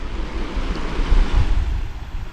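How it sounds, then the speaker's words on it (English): Waterfall on a Ben More hiking route, a steady broadband rush of falling water with a low rumble, continuous and fairly loud throughout, slightly swelling midway, with some wind buffeting the microphone and no talking. "enjoy the waterfall"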